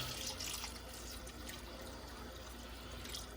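Water pours steadily into a pot of vegetables being made into chicken stock, a continuous close splashing and gurgling stream lasting throughout.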